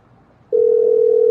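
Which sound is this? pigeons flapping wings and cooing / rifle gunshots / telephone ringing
telephone ringing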